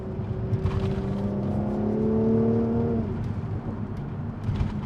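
A Mercedes C450 twin-turbo engine hums and rises in pitch under acceleration, its tone climbing steadily before dropping with a shift around midway, heard from inside the car with road rumble beneath.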